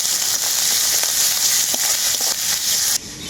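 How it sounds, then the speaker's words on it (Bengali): Ginger garlic paste is fried together with onion paste in hot oil, giving a loud, steady close-up sizzle with fine crackling throughout that drops suddenly at the very end. "আদা রসুনটাকে একসাথে পেঁয়াজের সাথে আমি খুব ভালো করে ভেজে নেবো"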